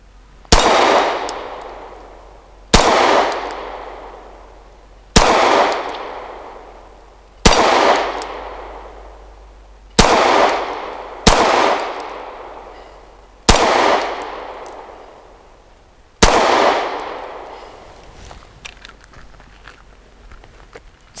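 Eight sharp pistol shots from a Beretta APX A1 Compact ring off a steel spinner target, each crack followed by a decaying metallic clang, spaced about two to three seconds apart at close range.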